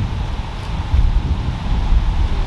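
Wind blowing outdoors across a disc golf course, a steady, loud rumbling buffet against the microphone with gusty swells and no voices.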